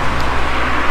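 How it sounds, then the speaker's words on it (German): Traffic rushes steadily along a main road outside an abandoned house, a loud continuous wash of car noise with no clear single pass. "Ich glaube, ihr hört auch schon hinter mir die Autos hin und her fahren."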